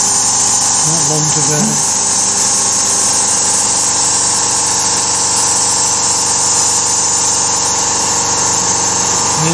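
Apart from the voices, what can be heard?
Carvera Air desktop CNC machine milling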